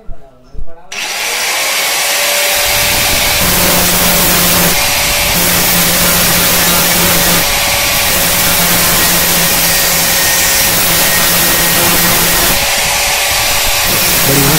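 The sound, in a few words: angle grinder smoothing a hand pump pipe socket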